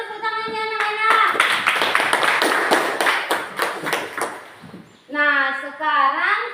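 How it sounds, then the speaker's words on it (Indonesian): Schoolchildren in a classroom clap together in a brisk burst of several seconds, with an adult voice speaking before and after the clapping. "berikan dulu tepuk tangannya anak-anak"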